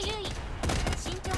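Gatling gun fire from a soldier in the robot shooter Figure Heads, choppy bursts of rapid shots broken by brief pauses, with game tones and quiet speech mixed in.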